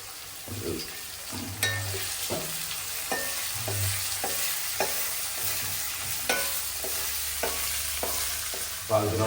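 Potatoes and beans frying in a pan and being stirred: a continuous sizzle under repeated scraping and clinking strokes of a spoon against the pan, steady and close.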